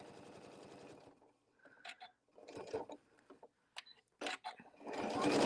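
A sewing machine stitches to the edge of a quilted placemat in short bursts separated by pauses, the motor whirring up and down at close range with no talking.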